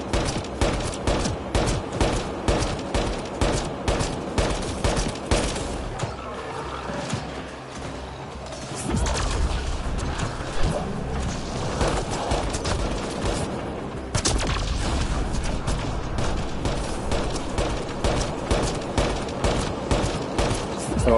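Dense, continuous gunfire from a turret in the Mass Effect Andromeda video game on Insanity difficulty, a steady rapid volley that pauses briefly and then resumes at full strength, loud and alone.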